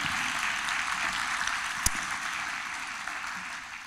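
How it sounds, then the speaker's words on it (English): An audience applauds Sarah at a community food system gathering in Missouri, a continuous even roar of clapping throughout with one sharp knock partway through, no voices over it. "let's just give Sarah a big round of applause"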